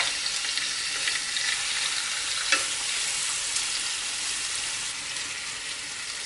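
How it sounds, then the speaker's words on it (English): Meat strips browning and sautéing in oil in the bottom of a cooker, a continuous close sizzle with faint stirring scrapes and one brief clink midway, no talking. "We are browning and sauteing the meat first."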